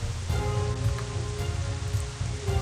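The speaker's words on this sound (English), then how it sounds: "The droplets of rain roll down the umbrella, keeping us locked in a makeshift waterfall." Steady rain patters on an umbrella close overhead as a dense, even hiss with soft drumming drops throughout, and no voices.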